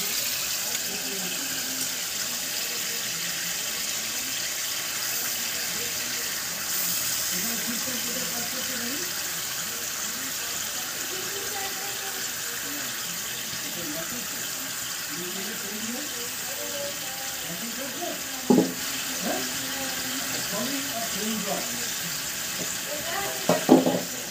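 A paste of onion, ginger, garlic and green chili fries in a pan for a country-chicken kosha, with a low continuous sizzle and occasional stirring clinks while a voice talks over it.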